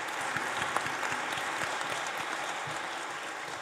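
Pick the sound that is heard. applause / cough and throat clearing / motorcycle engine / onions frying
applause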